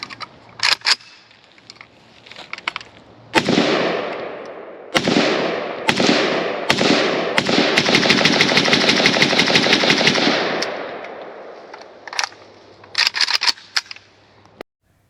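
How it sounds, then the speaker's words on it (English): KUSA KP-104 AK rifle emptying a magazine at an outdoor range: a few sharp single shots, then a long rapid string of loud cracks, followed by more scattered shots near the end. "And one more mag from Fox through the 104."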